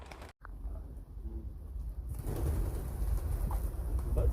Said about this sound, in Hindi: कबूतरों को भाई साहब दाना डाल रहे हैं।